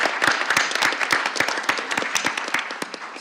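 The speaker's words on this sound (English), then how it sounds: "let's give everybody a big round of applause from this section up here" A conference audience applauds a section of participants at a plenary workshop, a dense, steady patter of many hands clapping close by for about three seconds, with no speech over it.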